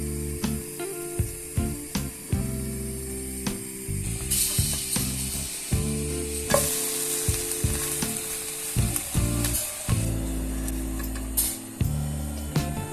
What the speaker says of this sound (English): Fry them for 2 minutes on each side